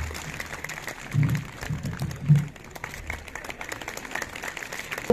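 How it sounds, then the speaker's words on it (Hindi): An audience claps at a free medical camp in Zanskar, a fairly faint, steady patter of applause with a few louder bursts, heard from a distance. "तो तालियां हो जाए दर्शकों जोरदार से"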